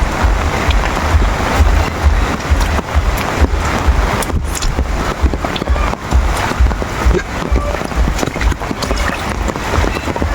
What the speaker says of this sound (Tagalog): Kasi hindi pa tumitigil yung ulan. Ang lakas pa rin. Sobrang lakas pa ng ulan.